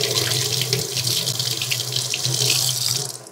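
Tap water runs loudly and continuously into a sink while vegetables are washed beneath it, with splashing and shifting flow, close by and with no talk.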